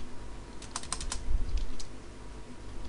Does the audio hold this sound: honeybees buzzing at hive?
no